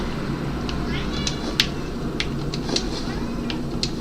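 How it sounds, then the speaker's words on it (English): A pet cat named Chester meowing in a room during Skyrim gameplay, several short high cries scattered over steady background noise and game sound. "Is that what you're meowing?"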